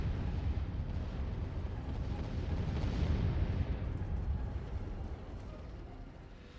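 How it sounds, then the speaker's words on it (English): A space warship explodes in the strategy game Sins of a Solar Empire 2, making a dense, rumbling blast that roars continuously for several seconds before slowly fading. "Oh, cool explosion animation too."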